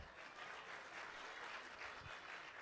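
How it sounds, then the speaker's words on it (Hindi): A crowd claps at a kavi sammelan poetry gathering during the Siwana Utsav, steady dense applause from many hands, moderately distant and even in level. "अब आप तालियां बजाएं"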